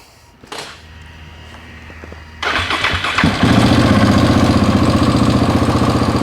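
A KTM motorcycle engine in a repair shop starts after a few seconds of quiet clunks, then settles into a loud, steady, throbbing idle close by.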